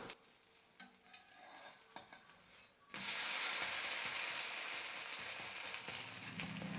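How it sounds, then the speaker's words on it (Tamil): A dosa cooks on a hot pan with a faint sizzle and small scraping sounds, then is flipped and bursts into a loud, steady hiss for the rest of the moment. "ஒரு பக்கம் தோசை நல்லா வெந்ததுக்கப்புறமா இன்னொரு பக்கம் திருப்பி போட்டுக்கலாம்."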